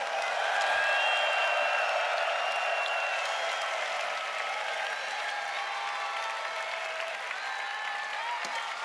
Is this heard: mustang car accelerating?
no